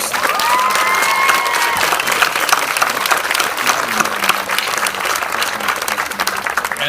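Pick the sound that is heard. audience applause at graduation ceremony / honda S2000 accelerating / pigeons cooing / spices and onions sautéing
audience applause at graduation ceremony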